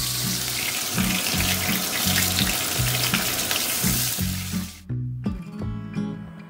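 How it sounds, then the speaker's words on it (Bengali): A fish head fries in very hot mustard oil in a kadai, a loud steady sizzle with rhythmic low clatter that cuts off abruptly near the end, leaving quieter crackling. "কড়াইতে পরিমাণ মতন সর্ষের তেল নিয়ে তেলটা যখন খুব ভালো করে গরম হয়ে যাবে তখন মাছের মাথাটা দিয়ে ভালো করে মাথাটা ভেজে নেব"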